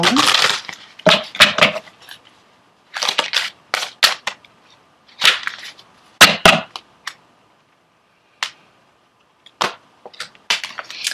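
Tarot oracle cards being pulled and shuffled from a deck give a series of sharp, close papery snaps and slaps in irregular bursts, separated by short quiet gaps.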